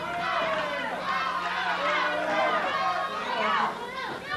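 A wrestling arena crowd roars and chatters loudly and continuously, with many voices blending into a dense, cheering wash.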